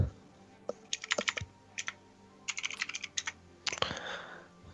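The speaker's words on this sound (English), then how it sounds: "I can hear the typing." Fingers type on a computer keyboard close by, clicking in quick uneven bursts with brief pauses between runs of keystrokes.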